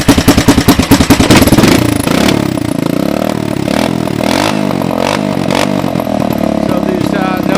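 A 1984 Honda 200ES motorcycle engine runs steadily near the microphone, with a quick burst of pulses at the start settling into a continuous rattling idle, with a radio or voices faintly mixed underneath.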